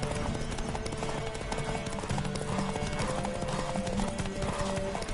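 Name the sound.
galloping horse hooves in video game The Witcher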